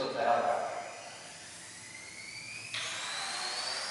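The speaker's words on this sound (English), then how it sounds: "What I'm trying to do is flip the helicopter." A small RC nano helicopter flown erratically indoors while the pilot tries to flip it, its thin, high whine sliding upward in pitch and then jumping sharply near the end, with quiet voices around.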